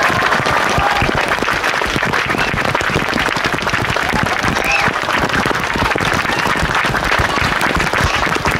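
Audience applause at an outdoor farm performance during a royal visit, steady dense clapping from a crowd, loud and continuous without pause throughout.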